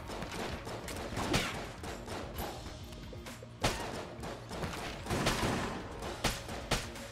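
Gunfire in the Enter the Gungeon video game, bursts of rapid shots and sharp thuds over a steady game soundtrack, with louder impacts spaced irregularly.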